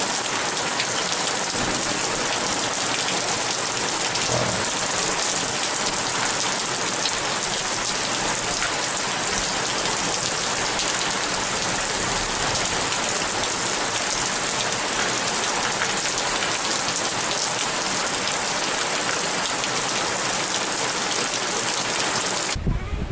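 Heavy storm rain pouring in Cyprus, a loud, unbroken hiss of rain drumming on surfaces that stays dense and steady throughout, close around the listener.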